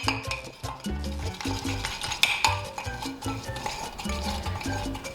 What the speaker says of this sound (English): I'm gonna go ahead and stir it a little bit more.